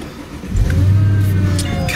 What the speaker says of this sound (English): God, I just love starting this car up.